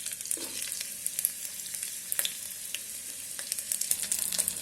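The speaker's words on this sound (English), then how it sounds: "first we will fry the veggies" Cauliflower, beans and carrots frying inside an electric kettle give a steady, soft sizzle with scattered small crackles and pops, moderately close and alone.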